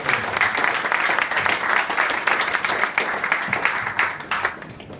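Sustained audience applause fills the room at the close of a talk, dense steady clapping from a crowd that stays loud throughout and begins to thin slightly near the end.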